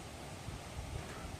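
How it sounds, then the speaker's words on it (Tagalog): Strong wind blowing across an open farm, a steady broadband rush with gusty low buffeting against the microphone, loud and continuous with no other sounds standing out. "malakas pa rin yung hangin"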